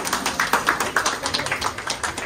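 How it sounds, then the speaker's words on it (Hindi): A room of people claps for the reception and medical staff of an IVF hospital in Lucknow, a dense, steady patter of many hands that continues throughout the short burst. "मेरे स्टाफ के लिए मेरे कहने से बहुत बड़ी तालियां."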